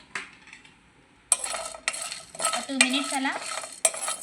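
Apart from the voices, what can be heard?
dry-roasting spices stirred in pan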